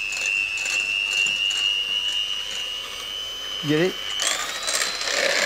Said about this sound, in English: I never get over the magic of whisking egg whites